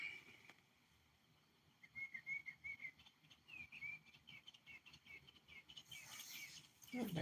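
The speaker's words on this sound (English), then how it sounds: "The birds chirping." Faint bird chirps and short tweeting calls drift in at a distance over a quiet room background, scattered across several seconds, with a louder burst of noise near the end.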